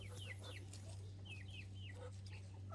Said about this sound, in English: different breeds of chicken, from bantams to lavender Orpington regular sized chickens